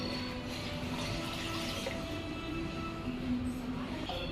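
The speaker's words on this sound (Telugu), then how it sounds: "సో మొత్తం అయిపోయిన తర్వాత నేనైతే వాటర్ పోస్తున్నాను అనమాట." Water pours steadily into a container while lemon juice is being mixed, a continuous close splashing rush with no break.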